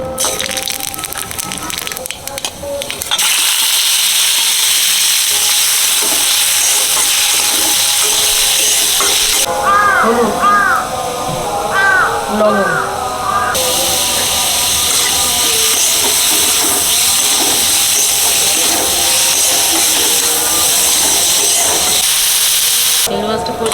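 Dry red chillies frying in hot oil for a prawn ambal, a loud, continuous hissing sizzle close by that runs almost the whole time, with brief faint talk in the middle.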